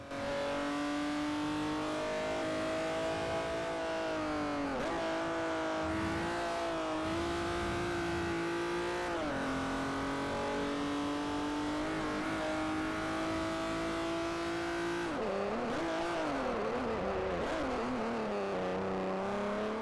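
A Saab 9-3 Turbo X with a grip tune, driven in Forza Motorsport 4, gives a continuous engine drone that dips in pitch at gear shifts around 5, 9 and 15 seconds, then climbs again, with no talking.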